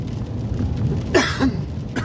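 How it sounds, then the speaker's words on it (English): A couple of short, close coughs break through a quiet background, one dry and throaty. "My lungs are so dry, my throat's dry, so that's why I'm coughing a lot."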